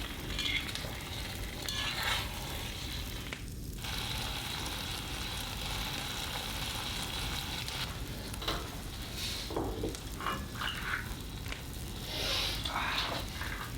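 Ingredients for homemade noodles are stirred and mixed in a bowl, giving a continuous soft, wet, squishing scrape with sizzle-like hiss and occasional louder smacks, steady and close throughout.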